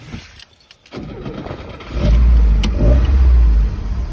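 A 1969 Fiat 124 Sport Coupé cranks briefly and fires right away, settling into a loud, close, steady idle with a low rumble that holds to the end, with no talk over it.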